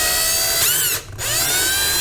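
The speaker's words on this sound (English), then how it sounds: "My electric drill and then drill that into" Electric drill boring into a model railway layout during DCC wiring work, a steady whining motor with a brief dip in pitch midway as the bit bites, close and loud throughout.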